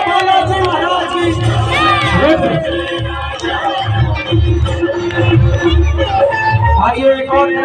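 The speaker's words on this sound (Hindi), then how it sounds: "एक बार जोरदार तालियां हो जाए, जोरदार तालियां" A large crowd at a Balaji Maharaj religious gathering cheers, claps and shouts loudly and continuously, with voices rising above the steady roar of the audience.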